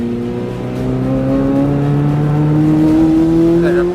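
A Corvette Z06 pulls hard on a race track, its engine note climbing steadily as it accelerates out of a corner, loud and close from inside the car.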